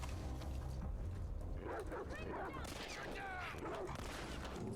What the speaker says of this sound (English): don't kill the dog